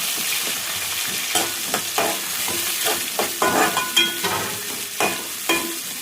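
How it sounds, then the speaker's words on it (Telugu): Coriander, curry leaves and onion frying in a pan, a strong continuous sizzle broken by spatula stirs and scrapes at irregular intervals, heard close and with no speech. "కొత్తిమీర, కరివేపాకు, ఉల్లిగడ్డ వేసేస్తాం"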